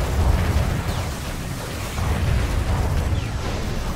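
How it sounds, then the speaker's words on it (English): Big, lingering explosions rumble in the Five Nations video game, a dense, continuous low roar of overlapping blasts that swells and stays loud throughout, with no talk. "Those big lingering explosions really worry me sometimes."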